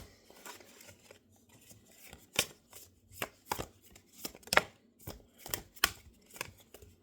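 Crisp, snappy card shuffling up close, a series of sharp riffling bursts and taps at an uneven rhythm, no talking.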